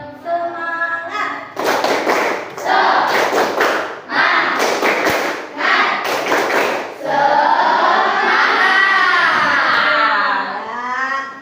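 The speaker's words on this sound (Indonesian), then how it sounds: "Tepuk semangat." A classroom of students does a rhythmic clapping chant for an energizer: bursts of loud claps in a steady beat alternate with children's chanting voices, ending in sustained group singing.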